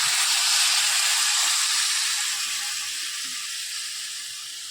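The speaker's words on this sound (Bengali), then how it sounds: "এবারে আমি এটাতে জল ঢেলে দিলাম।" Water poured into a hot pan of fried vegetables and spices bursts into a loud, bright hiss of steam that slowly fades over a few seconds, close and alone.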